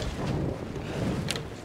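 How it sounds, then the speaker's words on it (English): A strong wind gust buffets the microphone on a coast during cod fishing, a loud, continuous low rumbling roar with no voices. "See that wind come?"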